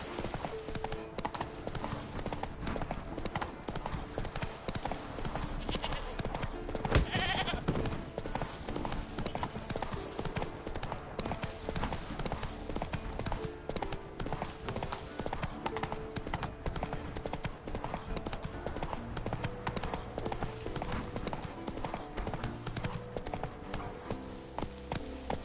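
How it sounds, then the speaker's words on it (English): Horse hooves clip-clopping steadily in the Witcher 3 video game, a continuous rhythmic trot running under game music and effects, with brief spoken lines. "Whoa there, Roach"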